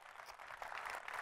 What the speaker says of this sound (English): Wasn't looking for applause and quite frankly wasn't sure why it was there